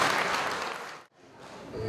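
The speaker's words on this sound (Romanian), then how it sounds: "Să le aplaudăm pe doamne, pe domnișoare și pe toate femeile din viața noastră." Applause from an audience in a hall at a dressed-up ball celebrating women in March, a full burst of clapping that fades out briefly and then picks back up.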